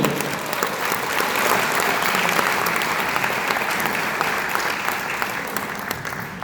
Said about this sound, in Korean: 힘찬 함성의 박수를 보내주십시오